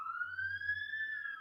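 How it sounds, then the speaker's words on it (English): An emergency siren wails outdoors, a single sustained rising-and-falling tone heard at a moderate distance over a low hum. "Sirens are going off here."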